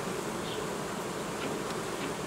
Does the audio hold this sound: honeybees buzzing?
yes